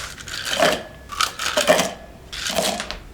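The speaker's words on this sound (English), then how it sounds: "Now we're gonna add the ice to do it again. Also add some ice to our glass." Ice cubes rattle and clatter into a cocktail shaker and a glass while making a cherry whiskey sour, in three separate bursts of clinking, fairly close and moderately loud.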